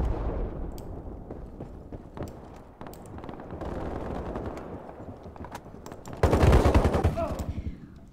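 Rapid automatic gunfire from the first-person shooter game Ironsights, bursts of shots over a rumbling game soundscape, with a heavy, loud volley near the end.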